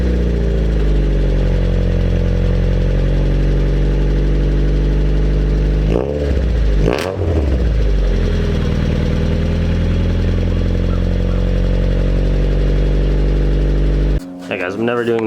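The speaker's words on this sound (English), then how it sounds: "this thing also has, I'm pretty sure, a vibrant muffler and the loudest exhaust I've ever heard" A slammed Honda Civic with a Skunk2 header and Vibrant muffler idles and revs with a very loud, raspy exhaust drone, steady and close, with a brief blip and pause near the end.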